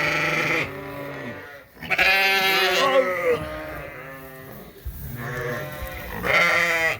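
Lambs and sheep bleat in a barn, several overlapping close calls of varied pitch following one another with brief pauses between them.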